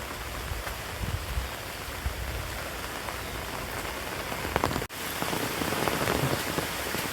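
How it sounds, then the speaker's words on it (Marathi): Heavy morning rain in the Konkan countryside falls hard and steadily on a village lane, a dense hiss of drops pattering on surfaces; it cuts out for an instant midway, then resumes. "जोरात पाऊस आलाय"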